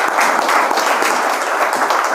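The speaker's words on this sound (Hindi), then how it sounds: "ताली बजाओ" Steady applause from a coaching-class audience celebrating a topper's selection, dense and continuous clapping held at an even level throughout.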